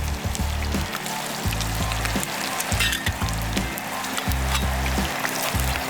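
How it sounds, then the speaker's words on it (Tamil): Garlic fries in hot oil along with cumin and green chilli, sizzling steadily and close with rhythmic crackling bursts and occasional stirring. "இப்போ பூண்டு நல்லா ஃப்ரை ஆகிடுச்சு."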